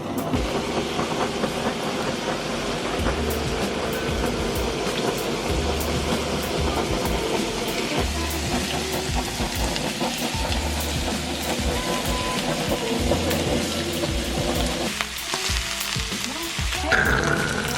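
A kitchen blowtorch roars steadily as it melts cheese over food at a Korean barbecue home party, blending with a continuous sizzle and crackle of the grill throughout.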